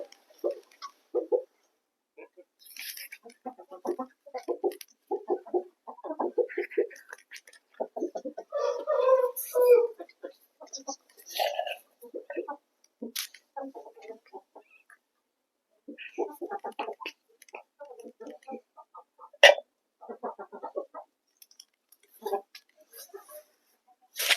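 Roosters and hens on a poultry farm cluck and call in scattered, overlapping bursts throughout, fairly close, with someone talking over parts of it.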